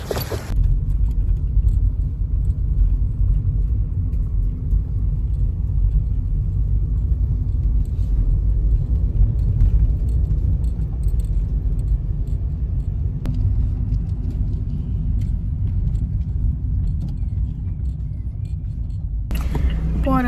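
Inside a moving car, a steady low road rumble and engine drone continue for the whole stretch, with a faint clink partway through.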